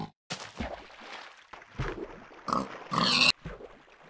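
Pig grunts in a French Minecraft-style building game, a few short oinks scattered across the stretch, the loudest near the end, mixed with other game noises and no talking.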